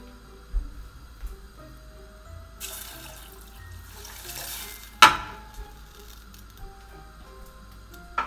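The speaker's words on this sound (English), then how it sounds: "I'm gonna put water." Water poured into a cooking pot for sinigang na hipon: a couple of seconds of running tap water, then a sharp clank of the pot and a few faint kitchen knocks and drips.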